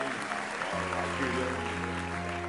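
Studio audience applause on the Turkish talent show O Ses Türkiye after a singer's performance, a steady crowd clapping joined partway through by a sustained tonal sound, likely music or a voice, riding over it.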